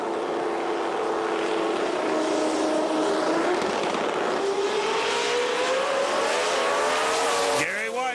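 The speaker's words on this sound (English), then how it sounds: "Two wild machines here, two turbocharged cars, one inline six-cylinder for the #1 qualifier" Two turbocharged drag racing cars, one with an inline six-cylinder and a big cubic inch turbocharged Cavalier, launching at Texas Motorplex in ADRL Extreme 10.5 racing, a loud sustained engine roar rising in pitch, with commentary over it.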